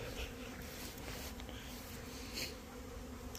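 Honeybees buzz around the hive on their first spring cleansing flight, a steady, dense drone of many wings that holds evenly throughout with no talk.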